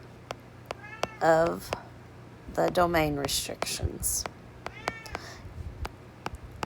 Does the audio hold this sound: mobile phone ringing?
no